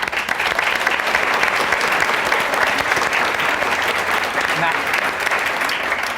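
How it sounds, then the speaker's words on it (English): Sustained audience applause at a book and author program at a Holocaust museum, steady dense clapping filling the room for the whole stretch at even loudness, with no voices over it. "she deserves another round of applause for that."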